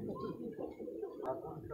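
Soft cooing of pigeons at an outdoor market, a few low rolling coos close by and fairly quiet, mixed with faint voices and background chatter.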